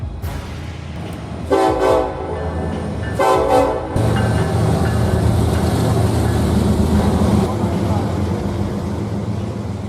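Freight train hauling metro cars rolls past with two loud horn blasts early on, followed by a continuous rumbling clatter of wagons at close range.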